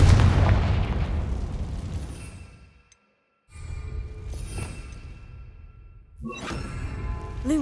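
Confringo blasting spells explode in Hogwarts Legacy: a heavy boom rumbles and fades over a few seconds, a second blast follows after a short silence, then a sharp third burst rings out with a metallic, shimmering tail.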